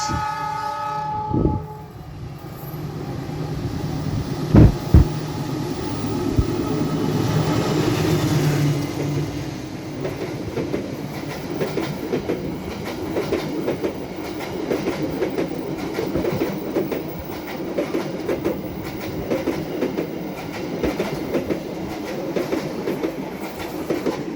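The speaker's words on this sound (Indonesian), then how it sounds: "KA Lodaya melintas langsung stasiun Leles" The KA Lodaya train runs straight through Leles station without stopping. A brief horn sounds early on, then a steady rumble and rapid clickety-clack of wheels on rail continue loud and close as the carriages roll past.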